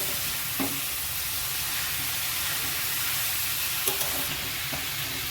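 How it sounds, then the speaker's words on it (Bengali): Capsicum fries in a hot pan, with a loud, continuous sizzle and hiss filling the whole stretch and a few faint clinks of stirring rising above it, close by and with no talking. "এটাকে ভালো করে নেড়ে চেড়ে ভেজে নিতে হবে।"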